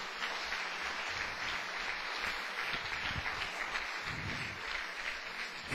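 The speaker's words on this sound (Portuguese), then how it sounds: "Agora você pode dar outra salva de palmas" A church congregation applauds, a steady wash of many hands clapping at once, continuous and evenly loud throughout with no voices on top.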